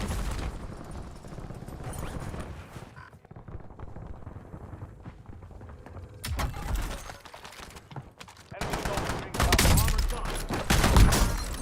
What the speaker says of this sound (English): I just sniped, no scope sniped this motherfucker running up on me